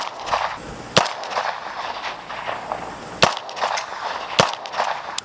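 Shots from a PSA Jakl rifle in 300 Blackout fitted with an Atrius Super Selktor muzzle brake, fired outdoors: three loud, sharp reports spaced about a second or more apart over steady background noise.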